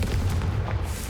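Confringo spell blast in the video game Hogwarts Legacy: a single loud, dense explosive boom with heavy low rumble, close and filling the whole moment, with no voice over it.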